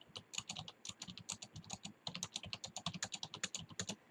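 Steady, rapid typing on a computer keyboard with a clear run of individual clicks over about four seconds, close and soft, with no voices.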